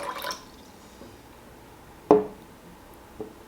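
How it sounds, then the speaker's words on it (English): Water being poured off from a container used to grow sweet potato slips, heard as a few faint splashes and one sharper drip-like splash against quiet background. "So I'm gonna remove a bit of this water."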